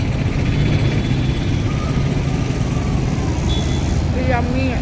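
Road traffic passes by continuously as a dense, steady rumble of car, bus and truck engines, with a brief higher-pitched tone near the end.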